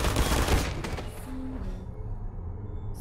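Automated turrets in the video game Portal fire rapid bursts of gunfire, a dense rattling volley in the first second that tapers into scattered shots, with a short electronic tone and a final click near the end.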